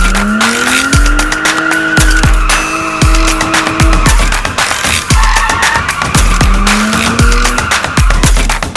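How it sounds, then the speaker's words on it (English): A race car speeds along a track in a children's cartoon, with repeated loud tire squeals and skids sweeping up and down over a roaring engine and a musical backdrop. "Race cars zoom on tracks and go really, really fast."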